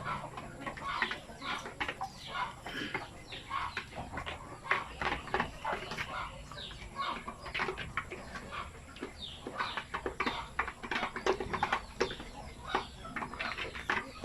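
Chickens clucking steadily in a backyard breeding pen, with repeated short calls from several birds mixed with a rooster, close by and continuous. A voice speaks faintly underneath.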